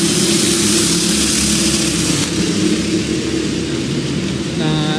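Racing kart engine at a Rye House winter race, loud and continuous with a buzzing drone and bright high-end roar that eases partway through, as if pulling away after restarting.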